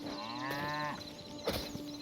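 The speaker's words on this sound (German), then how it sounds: "Kuh ist im Weg." A cow in the video game Hytale gives one long low moo close by, followed by a short scraping knock and a quiet ambient hum.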